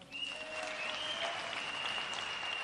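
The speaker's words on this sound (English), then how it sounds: "Who can clap for General Mbadi?" Crowd at a political rally in Kenya applauding, steady distant clapping throughout with a thin whistle-like tone over it, no talk.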